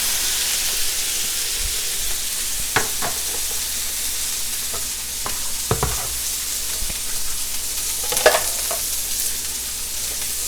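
Smash burgers frying on a griddle, a constant broad sizzle with occasional louder pops and scraping clicks, close by and steady with no talking.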